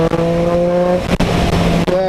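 A Triumph Street Triple RS 765 motorcycle accelerates hard, the engine note holding a strong harmonic whine, briefly breaking at a gear change, then climbing again, loud and close.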